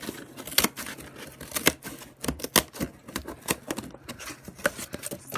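A blade trims through foam core and cardboard, with irregular close clicks, snaps and scraping cuts in quick uneven bursts, no talking.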